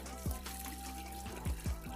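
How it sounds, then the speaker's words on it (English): Fresh water runs steadily while a Pentair pool salt cell is rinsed, with a few low gurgling glugs and splashes breaking through the constant flow. "Now we have fresh water. And we're just gonna take that and rinse the cell."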